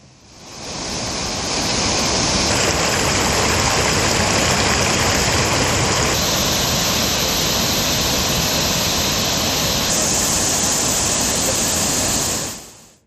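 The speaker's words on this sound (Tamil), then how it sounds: "அணை பிள்ளையார் திடுப்பணையில் தண்ணீர் ஆர்ப்பரித்து கொட்டுகிறது" Floodwater roars over the Anai Pillaiyar check dam on the Kottakudi river: a loud, steady, close-up rush of churning water that holds for the whole stretch with no voices.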